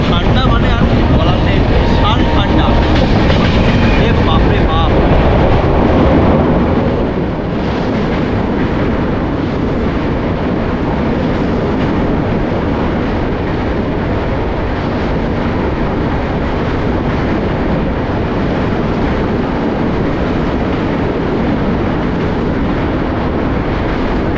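Darjeeling Mail express train running from Sealdah toward NJP on a foggy morning, a steady loud rumble of wheels and carriage noise with wind buffeting, louder in the first seconds then settling into an even roar.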